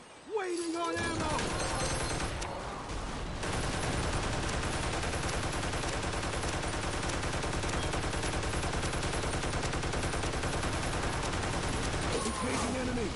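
Gunfire in Toy Soldiers: War Chest against incoming infantry, dense continuous volleys of automatic fire that fill nearly the whole stretch, loud and unbroken, with brief game voice calls at the start and end.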